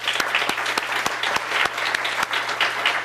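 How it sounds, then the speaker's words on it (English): Lively applause at a town board meeting for a group of public servants, dense clapping with several sharp, distinct claps standing out, close and fairly loud with no speech over it. "So let's give them another round of applause."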